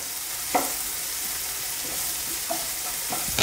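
Onions roast on a high flame, a steady close sizzle broken by a few sharp clinks and scrapes of a spoon stirring the pan, with no voices.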